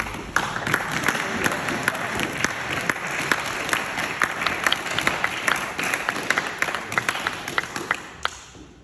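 An audience at a King's Coronation Medal presentation applauds steadily for several seconds, a dense patter of hand claps from a nearby crowd that tapers off at the end.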